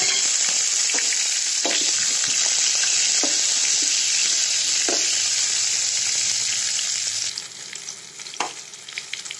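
Green chillies, chilli powder and cumin seeds frying in hot oil give a steady, loud sizzle with scattered stirring clicks, easing somewhat toward the end.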